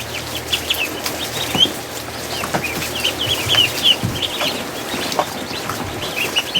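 Loud, honking calls of Chinese geese repeat irregularly outdoors, with flapping and rustling mixed in and no talking.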